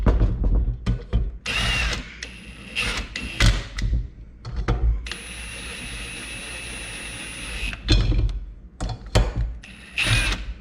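A power tool whirs and ratchets in short bursts while brake rotor bolts are tightened, with clicks and clanks of parts handled nearby between the bursts and a longer steady whine in the middle.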